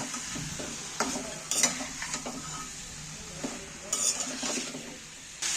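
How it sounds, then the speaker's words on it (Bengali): One kilo of chicken pieces is stirred in a hot pan for a peanut chicken dish, with a spoon scraping and clinking against the metal at an irregular pace over a soft background sizzle, close by. "এইবার আমি ভালো করে নাড়াচাড়া করতে থাকবো"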